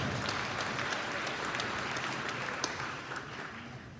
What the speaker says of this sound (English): let's have a round of applause for those two gentlemen as well